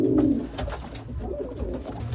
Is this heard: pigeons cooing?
yes